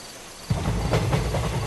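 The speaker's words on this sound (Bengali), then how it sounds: "প্রবল বৃষ্টিতে একটা ট্রেন ধেয়ে চলেছে রেলপথ ধরে" A train runs along railway tracks at night through a heavy downpour, a low steady rumble of wheels under a dense wash of rain that swells in suddenly after a brief quiet start and holds loud to the end.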